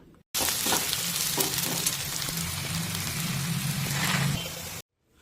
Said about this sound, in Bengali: এখানে দেখুন পেঁয়াজটা ভাজা চলছে